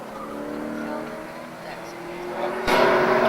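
A Super Cup race car engine cranks over and then abruptly catches into a loud, rough idle that continues to the end, with people talking nearby.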